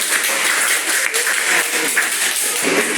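Steady applause from a classroom group, dense even clapping filling the whole stretch without pause.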